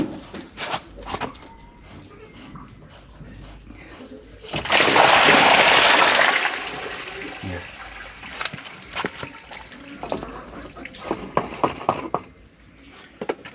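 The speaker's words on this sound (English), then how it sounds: "You see, all this water now goes and flows outside." Dirty water released from an outdoor drain outlet gushes out in a loud broadband rush for about two seconds, then trickles on with scattered splashes and clatter nearby, with no speech over it.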